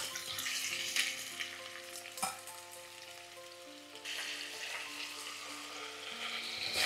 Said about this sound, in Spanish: y dejamos que rehogue un poco